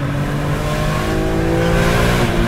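A BMW M3 E46 engine accelerating hard in second gear, a loud steady rising drone heard from inside the car, with no talk.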